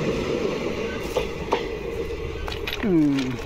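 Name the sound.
Indian DEMU train passing near Baraigram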